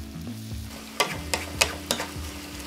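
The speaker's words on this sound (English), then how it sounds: "Simply mix it around to combine all the flavors." A spatula stirs Yasai Itame with its oyster-based sauce in a hot pan, giving four or five distinct scraping strokes at a steady pace over a low sizzle, close up with no talking.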